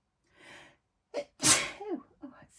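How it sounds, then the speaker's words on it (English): One loud, close sneeze bursts out after a soft breath and sharp inhale, followed by a brief voiced exhale, with no other sound around it. "oh, I feel like I'm going to sneeze."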